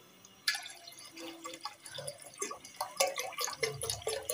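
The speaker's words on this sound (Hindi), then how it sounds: "अहमद पानी डाल दो" Water poured into a pot on a lit stove, a close trickling and splashing stream with dripping accents, moderately quiet and continuous for a few seconds.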